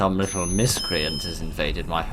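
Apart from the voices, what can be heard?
alarm beeping, from a video game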